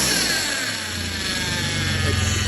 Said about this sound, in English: Get a little rev.